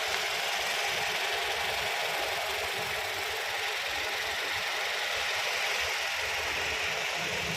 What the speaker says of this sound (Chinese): 听一下发动机声音。